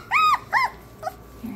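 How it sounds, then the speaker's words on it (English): A young collie puppy gives two high, whining whimpers and a short yip, then a low, soft growl. The sounds are close and clear against a quiet room. "We have the red collar puppy here."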